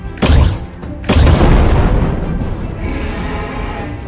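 Two loud booming blasts of returning fire in a LEGO Ninjago game, a sharp hit near the start and a second about a second later, followed by a long rumbling decay of debris and echo.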